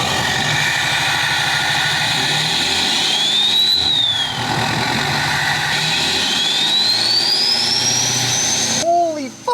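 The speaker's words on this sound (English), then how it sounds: "I'm gonna rev it up a little bit" A built 725HP 6.7L Powerstroke diesel engine revs up from idle. It gives a loud, steady roar, and a rising turbo whistle swells twice over the rumble.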